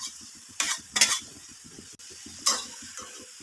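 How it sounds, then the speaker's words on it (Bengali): Fried eggplant pieces tumble into a pan of cooked drumstick flowers, giving a few soft clattering plops and a brief quiet sizzle alongside spoon-scraping sounds. "এবারে যে বেগুনগুলো ভেজে রেখেছিলাম সেই বেগুনগুলো সমস্ত দিয়ে দিচ্ছি"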